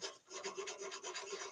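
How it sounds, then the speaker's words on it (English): Faint, quick rhythmic rasping strokes of wet-dry paper sanding a wooden cello fingerboard during a Bohemian cello rebuild, steady back-and-forth rubbing with no talk. "We'll use a little wet dry carbon paper."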